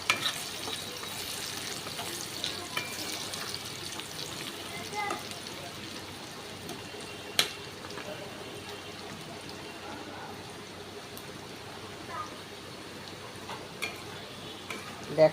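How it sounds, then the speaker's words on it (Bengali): Onions fry in a pan until browned, giving a soft, continuous sizzle with light stirring clicks and scrapes, faint and fairly even. "পেঁয়াজটাকে একটু লাল করে ভেজে নেব।"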